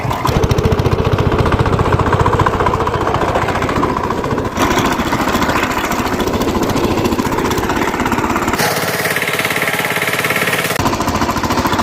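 A horned tractor works a field while sowing groundnut: a loud, close diesel engine throbs in a continuous, evenly pulsing drone. Its tone shifts slightly partway through, and no one talks.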